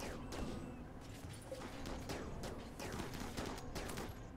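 Faint rattling bursts of gunfire from the video game RimWorld crackle at low volume throughout, with repeated rapid shots overlapping in a dense, distant-sounding volley.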